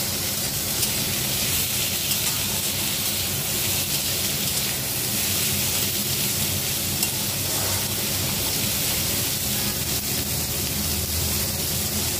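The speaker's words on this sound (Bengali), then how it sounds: "দিয়ে দেবো গোটা জিরে। এবারটাকে একটু নরম করে ভাজা ভাজা করে নেব।" Whole cumin seeds fry in oil in a pan, giving a steady, dense sizzle that holds at an even level throughout with no talking.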